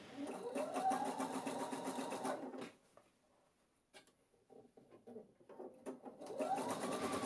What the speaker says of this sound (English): As you sew, stretch the elastic and it will start to gather the fabric.